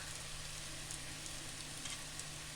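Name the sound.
onions frying in a pan for chicken curry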